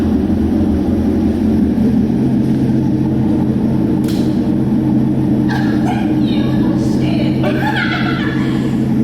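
Straight-piped Chevrolet C7 Corvette with a loud, deep, steady exhaust drone held throughout, with faint chirps and clatter rising over the rumble in the second half.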